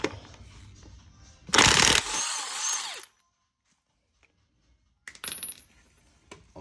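An impact wrench removing wheel lug nuts on an RSX Type S gives a short loud rattling burst, then a softer whir tailing off, followed by silence and a few faint clinks.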